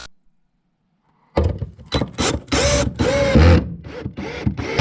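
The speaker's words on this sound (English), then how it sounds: "This is the hammer mode on this wee boy." A hammer drill in hammer mode starts after a quiet moment and runs in loud, rapid pounding bursts with brief pauses, close up, during masonry block work.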